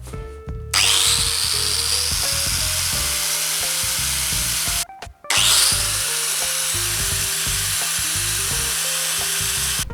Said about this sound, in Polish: małą szlifierkę.